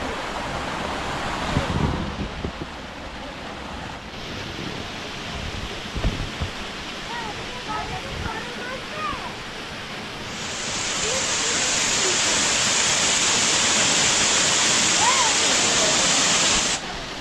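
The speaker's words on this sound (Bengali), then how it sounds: "কোথাও তিত্তির করে জল পড়ছে কোথাও অনেকটা সোতা আকারে জল পড়ছে" Water falls at Rock Garden in Darjeeling, making a continuous broadband roar that grows louder and fuller partway through, with faint voices underneath.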